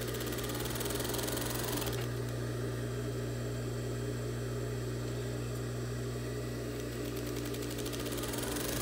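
A sewing machine runs steadily close up while stitching the lining of a wedding dress skirt, giving a continuous whirring, humming drone with a constant tone and no pauses.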